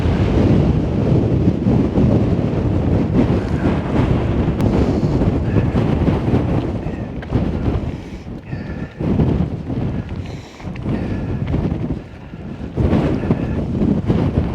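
Strong wind buffets a microphone on an exposed mountain ridge of the Appalachian Trail in Maine. The roar is loud and continuous, dips briefly, then picks up again, with no talk.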